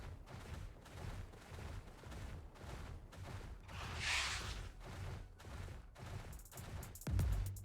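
Gunfire from a single-shot rifle in the video game Palworld, a series of sharp, evenly spaced bursts at moderate loudness, ending in a heavier thump, with no talking.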